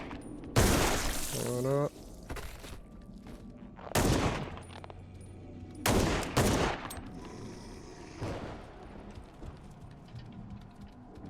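Bursts of gunfire ring out in a Resident Evil-like survival horror video game, several loud separate volleys with gaps between them, and someone speaks briefly over the action.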